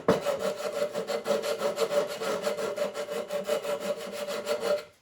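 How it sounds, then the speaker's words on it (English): Rapid rhythmic rasping of sandpaper rubbed back and forth on wood, steady strokes close by, stopping abruptly at the end. "you can use just a loose piece of sandpaper and go up and down"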